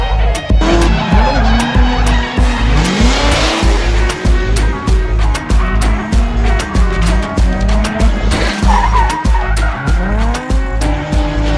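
A car drifting through practice runs, tires squealing and skidding in long sweeping slides as the engine revs and drops, loud and close, with repeated sharp clicks and knocks through the run.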